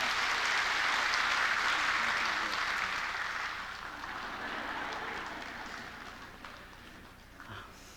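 A church congregation at a Sunday worship service applauds to bless a child, a broad, steady wash of many hands clapping that swells early and slowly fades over several seconds.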